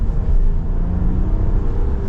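A 2025 RAM 1500 Big Horn Quad Cab 4X4 pickup, new with only 22 miles, pulls hard with a loud, steady engine rumble and drone heard from inside the cab, easing toward 4,000 RPM with no talk over it.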